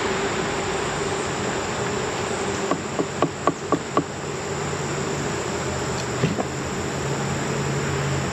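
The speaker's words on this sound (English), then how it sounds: "Good amount of bees in here." A steady, dense hum of honey bees in a hive fills the air throughout, with a short run of sharp taps partway through.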